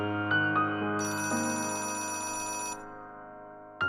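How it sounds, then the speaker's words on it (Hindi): A phone ringtone plays close and clear as a sustained electronic melody with a bright, chiming layer in the middle, then stops abruptly. "शायद खालिद का फोन होगा"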